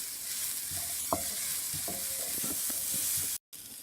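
Ginger garlic paste frying with lightly browned onions in a pan, a steady close sizzle under a few scattered scrapes and clinks of a spoon stirring, continuous until a brief drop near the end.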